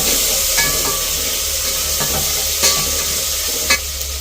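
Food sizzles steadily in a hot pan, with a few scraping stirs of a utensil against the pan at intervals.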